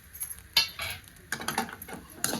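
Spoon stirring kachori filling made from pigeon pea pods and chopped coriander in a metal dish, with a few close scraping and clinking bursts separated by brief pauses.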